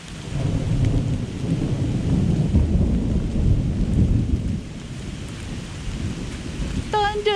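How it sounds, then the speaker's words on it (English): Thunder rumbling through steady rain on a hiking trail in the Great Smoky Mountains, a low rolling roar over the hiss of rainfall that fades a little toward the end. "Hear the thunder."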